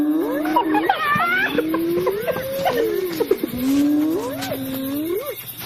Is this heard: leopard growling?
yes